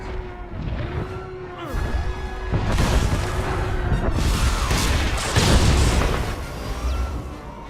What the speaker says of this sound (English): Warning! Warning! Incoming fire! All hands, brace for incoming!